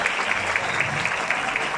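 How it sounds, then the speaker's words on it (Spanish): Audience applause at an award ceremony honoring a Paraguayan community in Ireland, a steady, dense patter of clapping with regular accents, sustained and fairly loud throughout with no clear talk over it. "Fuerte aplauso nuevamente para ellos."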